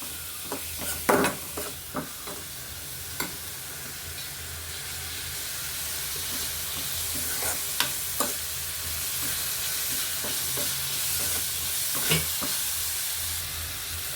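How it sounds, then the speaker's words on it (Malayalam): Curry ingredients being sautéed in a pan in a home kitchen, a soft steady sizzle running throughout with occasional sharp scrapes and taps of a spoon against the pan, no talking. "അപ്പം നമുക്കിതൊന്ന് വഴറ്റി കൊടുക്കാം"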